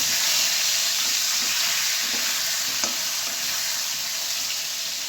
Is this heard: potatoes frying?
yes